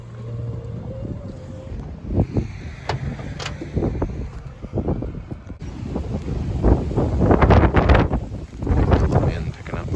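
Wind gusting around a car driving on a cold, windy night in Southlake during food deliveries, a broad rushing roar that swells and surges louder toward the end, with buffeting bursts over steady road rumble.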